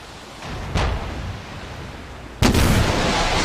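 Missiles exploding in the DCS World combat simulator, two heavy booming blasts over rumbling background noise, the second louder and longer.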